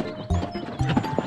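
Cartoon horse hooves clip-clop in a short burst of two or three thumps over a musical backdrop, as the letter U character gets ready to ride his horse in a preschool alphabet cartoon.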